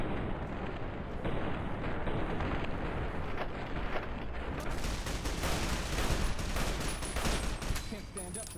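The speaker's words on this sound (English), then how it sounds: "It's the sound of the gun" Gunfire in Fallout: New Vegas bursts in rapid, dense volleys, loud and continuous, with a voice speaking briefly over it.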